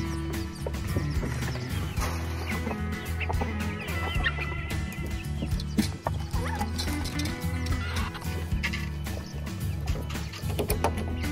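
A dense chorus of chickens clucking close by, continuous and busy, with scattered squawks and some hoof-like clopping in the mix.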